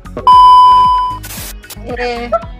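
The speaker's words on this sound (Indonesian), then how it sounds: "Apa namanya, alarm." Electronic alarm giving a loud, steady sustained beep tone that cuts off, followed by a burst of noise and a shorter wavering tone, with talking and background music underneath.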